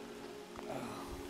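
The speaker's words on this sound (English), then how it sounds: "It's starting to rain too hard even for our liking." Heavy rain falls during a cold, wet fishing trip, a brief steady patter of drops heard close with no speech.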